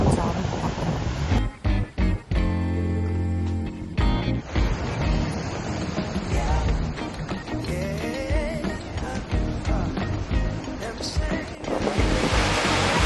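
Surf breaking along a beach in Kenting, Taiwan, on a clear, fairly calm day, a continuous broadband wash with swelling surges and wind buffeting the microphone.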